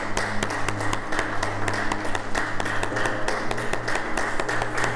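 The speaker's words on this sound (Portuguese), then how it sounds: "Pode aplaudir o Senhor." A church congregation applauds together, a steady wash of clapping with sustained organ or keyboard chords running underneath throughout.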